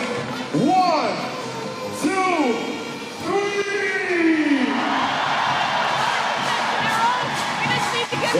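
Arena crowd at a FIBA Women's Olympic Qualifying basketball game, Canada versus Belgium, roars and shouts in rising waves, swelling into a sustained, loud cheer with whoops and yells throughout.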